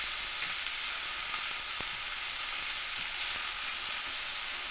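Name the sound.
stirring wild vegetables frying in a pan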